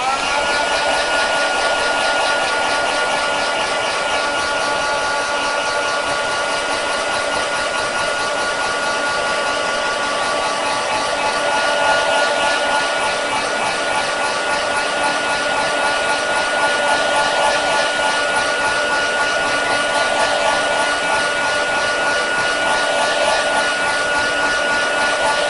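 A hair dryer runs close and loud on a freshly painted sky, giving a constant, whining, motor-driven blast of air that holds steady the whole time with slight shifts in intensity.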